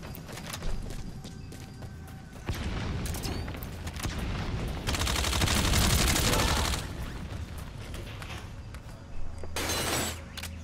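Rifle gunfire in the online shooter Metal Gear Online, with dense bursts of shots and clattering impacts building to a loud sustained volley mid-clip, then a sharper burst near the end.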